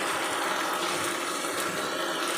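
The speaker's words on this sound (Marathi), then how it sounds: "यामध्ये आता आपल्याला घालायचं आहे एक छोटा ग्लास पाणी" A small glass of water pours into mixed sauces for paneer chilli, a steady, close rushing splash that runs without a break.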